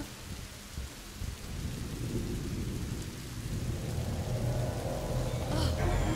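Rolling thunder with steady rain in the medieval adventure game A Plague Tale: Innocence, a low rumble that swells and stays loud throughout, with a brighter crackle near the end and no talk.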